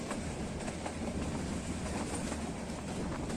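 A metre-gauge passenger train runs on rails between Bahraich and Nepalganj near Nanpara, a steady close rumble with faint rhythmic wheel clatter throughout and no voices.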